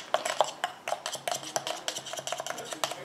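A utensil stirs a homemade pearl-and-rose day cream in a bowl, giving close, quick scraping and clinking strokes in an uneven, steady rhythm, with no talking.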